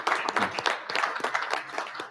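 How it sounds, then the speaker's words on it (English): A small group in a legislative hearing room claps briefly for Representative Paul Sherrill's birthday, faint uneven pattering of hands over about two seconds. "I would like everyone in this room to please join me in giving a huge birthday applause to my friend and seatmate, Representative Paul Sherrill"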